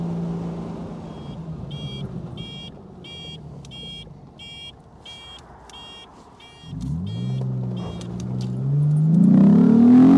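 A Morgan Roadster with upgraded suspension pulls hard through its gears, its engine note falling at a shift and then climbing again, loud and close. A rhythmic electronic beeping sounds through the first half.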